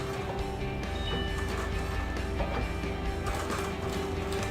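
A sewing machine runs without pause while back stitching a seam on a boho dress, a steady close mechanical whir with faint rhythmic clatter throughout.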